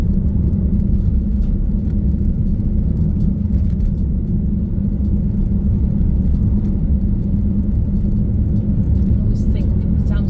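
Car engine and road rumble from inside a vehicle driving a scenic route near Towyn on a bank holiday weekend, with a steady low hum throughout and someone talking over it.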